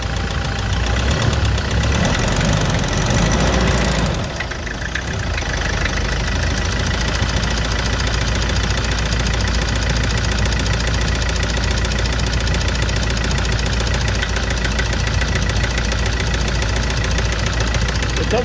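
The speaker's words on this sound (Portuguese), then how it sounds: "Vamos, ó a batida do motor." A diesel engine in a 2017 Toyota SW4 with a failed, knocking engine idles loudly with a steady, rough knocking rhythm throughout, close up, with a brief dip in the middle.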